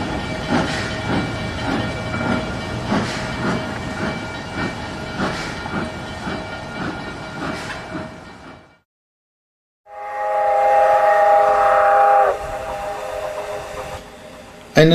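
Durango and Silverton steam train arriving, rhythmic chuffing and rolling rail noise for several seconds, then after a brief gap a loud, sustained steam whistle blast, with faint voices in the background.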